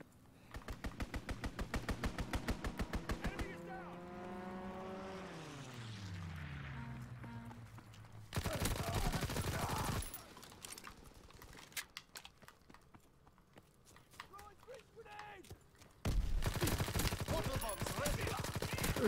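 Gunfire from a strafing run in the Call of Duty WW2 video game comes in rapid bursts, with an aircraft sweeping past between them and loud gunfire breaking out again afterward.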